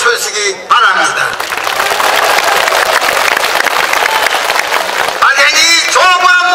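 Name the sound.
applause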